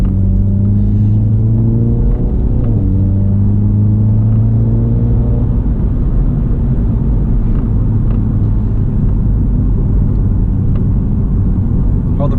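A 2018 Mini Cooper S John Cooper Works sports car drives with a steady, loud low engine rumble and a gear change partway through, with tones shifting as it pulls along throughout.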